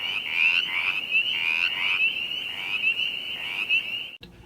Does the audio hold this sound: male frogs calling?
yes